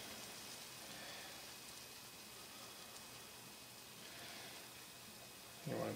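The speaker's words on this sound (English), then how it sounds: "you can hear it bubbling a little bit" A soft, steady fizzing and crackle of hot syrup bubbling, faint and even throughout, with a brief louder knock at the end.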